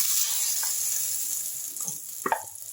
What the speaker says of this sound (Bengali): মিক্সিতে যে ডালটা পিষে রেখেছি সেইটাকে আমি কড়াইয়ের মধ্যে একটুখানি ঢেলে দিলাম।